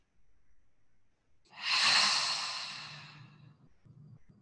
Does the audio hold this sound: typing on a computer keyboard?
no